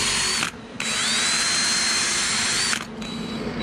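A power drill bores holes in 304 stainless steel with cutting oil, giving a loud, steady high-pitched whine that dips briefly twice as the bit eases off, close up and with no talking.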